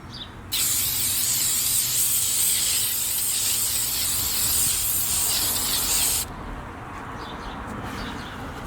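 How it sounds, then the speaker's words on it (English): A continuous, loud hiss of an aerosol can spraying activator onto a hydro-dipped sneaker, held down for about six seconds, starting and stopping abruptly, close up. "now what I'm going to do is spray it with the activator"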